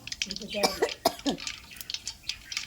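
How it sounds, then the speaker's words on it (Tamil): Mustard seeds crackle and pop irregularly in hot oil for tomato pickle, with sharp, close spits and a voice now and then. "கடுகு பொரிக்கிற சவுண்ட் கேட்குது பாருங்க."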